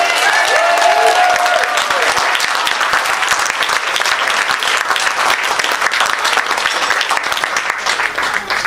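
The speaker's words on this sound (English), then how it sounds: "A big round of applause, please." Wedding guests applaud in a sustained, dense round of clapping that fills the room, loud and close, with a few faint voices mixed in.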